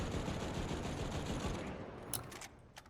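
Rapid gunfire in the video game The Finals, a dense sustained burst of shots that fades toward the end, followed by a few sharper isolated cracks, no talk.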